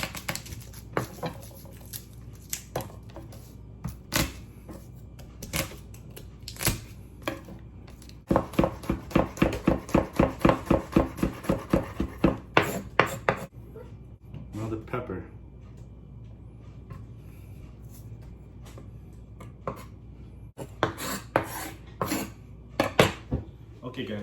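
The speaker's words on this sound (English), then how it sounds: "I just chopped up all that onion, garlic, hot peppers" A knife chops onion, garlic and hot peppers with irregular taps, then a fast, steady run of close, crisp chops before slower scattered cuts resume.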